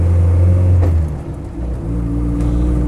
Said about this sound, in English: Great turn of speed, very smooth sounding engine.